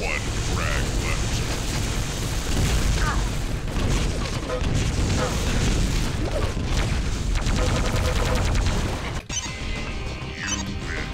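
Rapid gunfire, explosions and crashing weapon effects from the arena shooter Quake III Arena run as a dense, continuous barrage, with a person talking over the game sounds.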